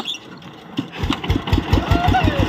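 Small ET 110 engine on a Thai rot e-taen farm truck starting up and revving, its rough, rapid putter building into a loud, close chug.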